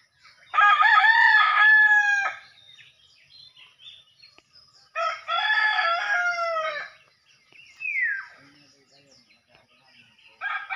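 A rooster crows loudly and close by, two full crows several seconds apart, followed by a brief, fainter bird call.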